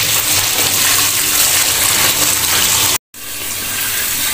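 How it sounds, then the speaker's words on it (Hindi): A motor pumps cold water into a household cooler, a steady loud gushing rush of flowing water with no talk and one abrupt brief dropout near the end. "अभी मैंने मोटर चलाई है फिर ठंडा पानी निकल आएगा"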